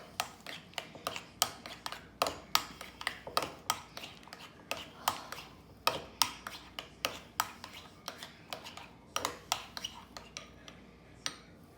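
A spoon stirs mayonnaise into deviled egg filling in a bowl, making a steady run of light clinks and scrapes against the bowl with an irregular rhythm and no talking.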